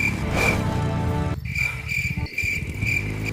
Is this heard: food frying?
no